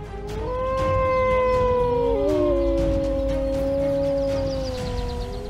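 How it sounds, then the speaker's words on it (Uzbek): Several wolves howl in overlapping long, wavering tones that rise and bend, sustained and fairly close, with no other sound competing. "Ammo biladiki bo'rilar uvillashadi."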